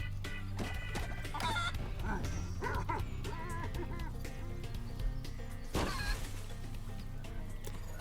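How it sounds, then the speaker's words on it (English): Game chicken from Spyro Reignited Trilogy clucking in short bursts amid a busy, steady bed of game music and effects, loud and close throughout the eight seconds. "That is one fat chicken."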